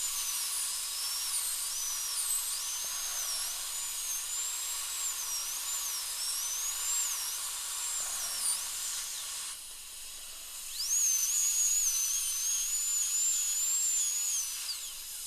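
A high-speed dental drill cuts down a molar in preparation for a porcelain crown. It gives a thin, high whine that wavers in pitch as the burr loads against the tooth, then stops and starts again, heard close over a steady hiss of water spray.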